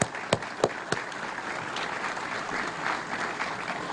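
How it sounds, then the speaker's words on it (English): A crowd claps at a university athletics facility dedication, with a few sharp claps at the start before steady, moderately faint applause fills the rest. "can we give one more round of applause for Veronica?"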